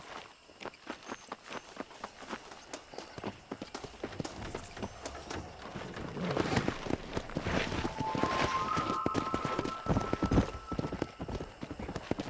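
Horse hooves clip-clop in Red Dead Redemption, starting at a walking pace and speeding into a quicker gallop, with dense rhythmic hoofbeats growing louder, a brief neigh, and faint background speech.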